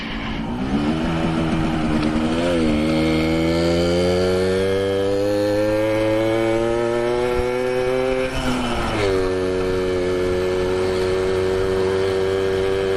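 An old two-stroke motorbike engine running on a ride out, a loud, continuous buzzing drone that rises steadily in pitch as it accelerates, dips briefly, then climbs again, with no one speaking.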